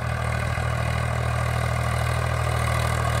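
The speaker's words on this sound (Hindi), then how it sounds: "स्वराज का बहुत ही मजबूत ट्रैक्टर है" Swraj 735 FE tractor engine running steadily at slow speed while pulling a harrow across a field, a loud, even low diesel drone with no voices.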